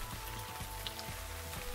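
Steady cartoon rain patters on a surface in a dense, even hiss with a faint low rumble beneath it. It is quiet and constant throughout, with no voices.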